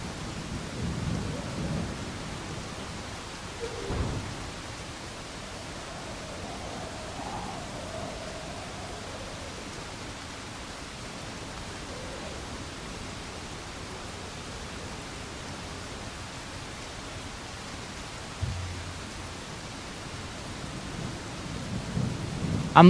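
Steady hiss of rain in the video game RoadCraft fills the scene, with a low rumble of thunder near the start and faint clicks scattered throughout.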